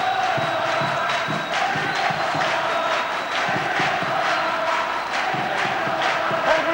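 Rugby league crowd at Catalan Dragons versus Wigan in 2009, a loud, sustained roar of cheering and chanting that fills the stadium throughout, with no clear talk over it.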